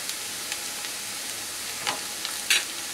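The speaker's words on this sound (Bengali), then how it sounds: "চিকেনটা একটু ভেজে নেব এর মধ্যে।" Marinated chicken is added to a pan of fried onions for Kolkata-style doi chicken and sizzles with a soft, steady hiss. A few faint stirring clinks come through toward the end.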